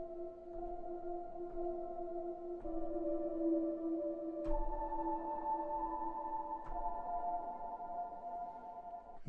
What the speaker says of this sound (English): I wanted to create a really kind of dystopian, far away, old kind of piano sound